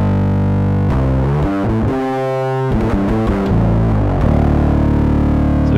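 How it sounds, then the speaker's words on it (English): Electric guitar played through a Pro Co SOLO rat-type distortion pedal with a heavily scooped tone: thick, sustained, saturated chords and notes ring out loudly and continuously, shifting pitch a few times before settling into a long held chord. "really evil, sustain-y rat type distortion."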